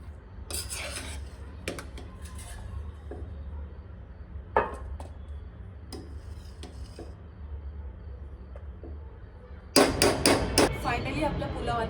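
A spoon scrapes and knocks against a pot while cooked masala pulao rice gets stirred, with a louder burst of clattering near the end.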